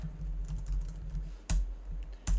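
Typing on a computer keyboard while scripting in Roblox Studio: soft, quick key clicks in an irregular rhythm, close and quiet, with two sharper, louder keystrokes near the end.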